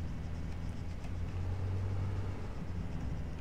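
A Hunter armored vehicle in the military game Arma 3 drives along at speed, its engine a steady low rumble and droning hum held evenly throughout, with no voices.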